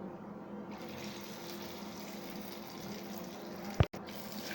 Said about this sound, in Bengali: এখন একটা কাঁটা চামচের সাহায্যে তেলের মধ্যে ছেড়ে দিব